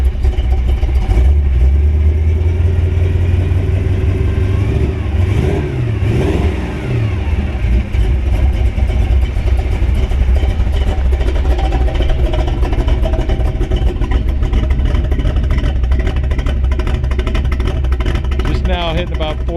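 A 1932 Ford Roadster hot rod with a ZZ4 350 V8 idles loud and close while still cold and warming up, a steady, deep, rumbling drone with slight shifts in pitch and no pauses throughout.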